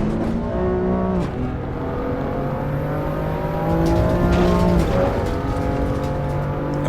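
Race car engine sound from the iRacing sim racing game, a loud steady drone with rising pitch as it revs through gears, dropping at shifts, continuous and close with no talk.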